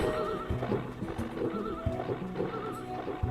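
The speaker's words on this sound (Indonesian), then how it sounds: "Gua mau kuda yang ini." Horses neigh in Harvest Moon: Hero of Leaf Valley, with several wavering whinnies rising over continuous game music and hoof clip-clops across the short stretch.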